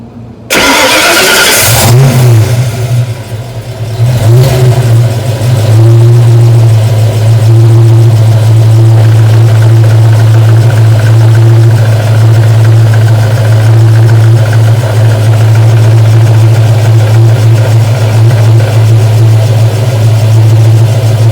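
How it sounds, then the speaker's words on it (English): A Ford Mustang Foxbody with a noisy throwout bearing cranks to life, then drones loud and close with a steady low engine hum and whirring mechanical tone throughout. "my throwout bearing is making a lot of noise"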